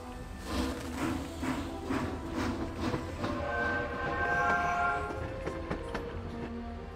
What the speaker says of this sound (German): So, jetzt müssen wir nochmal mit dem Zug fahren.